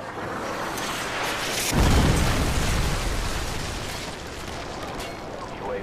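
A Predator missile explosion in Call of Duty: Black Ops strikes with a heavy, loud boom that swells and slowly fades into rumbling, amid ongoing game noise and voices.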